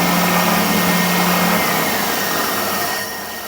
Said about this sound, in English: when I turn it on, it will automatically start the vacuum as well